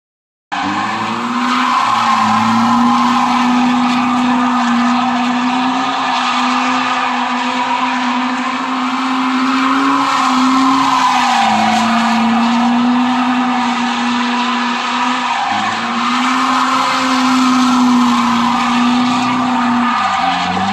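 A Volvo driven in a drifting run lets out a loud, sustained tire squeal with a strained, wavering pitch over steady engine roar, lasting the whole stretch with brief dips as the car transitions, no voices.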